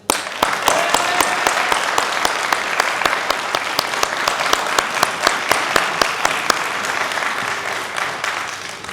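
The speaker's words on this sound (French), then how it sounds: "Acclamons-la très très fort." An audience at a political rally in Val-de-Reuil bursts into loud, sustained applause for a speaker, steady dense clapping with sharp individual claps standing out throughout, close and filling the space.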